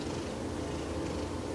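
A steady, low rumbling purr from an old cat, nearly 15 years old, continuous and close, with no talking over it.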